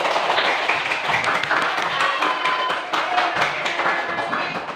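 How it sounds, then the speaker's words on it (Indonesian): Classroom applause from schoolchildren, a steady patter of many small hands clapping at fairly even loudness for several seconds, with some scattered taps and thumps. "Tepuk tangan untuk hari ini."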